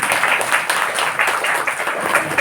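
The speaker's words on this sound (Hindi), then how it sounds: "ताली तो बजाओ" Audience clapping at a Brahma Kumaris gathering in Mau, a dense patter of many hands with a slightly uneven pulse, moderately loud and close, with no talk over it.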